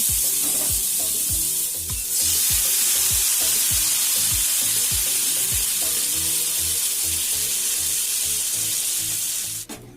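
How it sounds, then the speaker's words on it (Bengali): Water goes into a hot pan of prawn and potato curry, setting off a steady loud hiss and sizzle, with a regular rhythm of stirring scrapes and taps against the pan throughout and no voices. "দেখুন খুব ভালোভাবে সব কিছুকে কষিয়ে নিয়েছি এবার দিয়ে দেবো জল"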